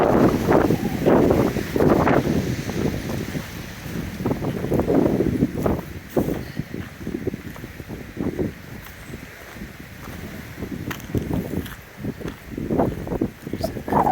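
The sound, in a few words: strong wind outdoors on a trail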